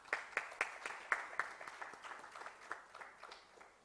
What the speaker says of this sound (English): Ladies and gentlemen, huge round of applause.